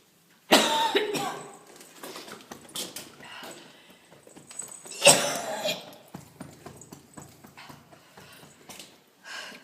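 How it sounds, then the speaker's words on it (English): A person coughs sharply, close by, in a couple of hard bursts with scattered softer coughs and throat noises between them. "since you got into the chapel I can't stop coughing"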